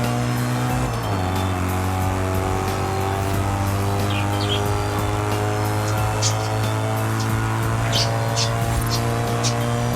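A BMW M3 GTR launching hard, its engine holding a loud steady drone that drops and shifts early on, then keeps roaring on through the rest of the run with faint chirps above it.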